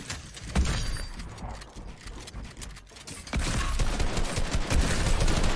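Rapid Fortnite gunfire in a Creative-mode 1v1 build fight, dense overlapping bursts of shots mixed with clattering mechanical clicks, growing louder and more continuous toward the end.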